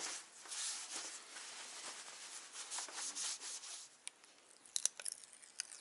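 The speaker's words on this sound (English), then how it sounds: "Clean this area up using rubbing alcohol or fingernail polish remover." Rubbing alcohol being wiped firmly across a snowmobile helmet surface: a steady, close scrubbing rustle with faint rhythmic strokes, followed by a few sharp, brief scuffs and taps.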